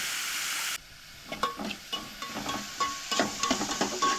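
Onions sautéing in a pan for Goan fish curry: a faint sizzle broken by a run of light, quick scraping and tapping stirs, close by, after a brief steady hiss at the start.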